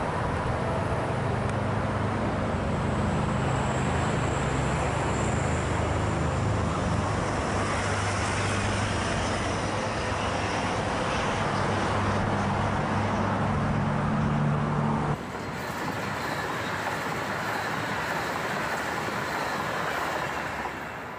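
A high-speed test train passes at about 200 km/h near Tegalluar station, a loud sustained roar of wheels on rails with a steady high hiss, shifting slightly toward the end.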